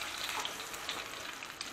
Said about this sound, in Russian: Обжариваем с двух сторон, буквально по паре минут с каждой стороны,